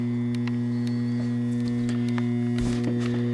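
A 1960s Pemco cobra head streetlight gives a steady low electrical hum with strong even harmonics, fairly quiet and close, with a few light handling clicks and a thump near the end.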